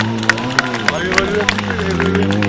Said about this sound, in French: Allez, on applaudit bien fort. Allez, on fait du bruit, on fait du bruit,